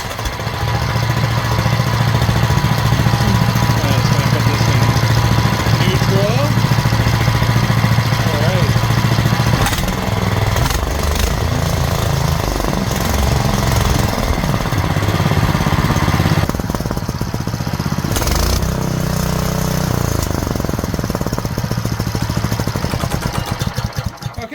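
A Big Block PowerPack engine fitted with a 40 Series CVT is started and runs steadily, giving a loud, continuous mechanical drone whose tone shifts partway through.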